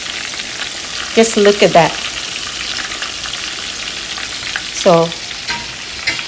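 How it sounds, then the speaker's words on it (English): Coconut shrimp fry in hot oil with a steady, loud sizzle throughout, while a voice speaks briefly over it. "Our shrimp is done now, ready to come out of the oil."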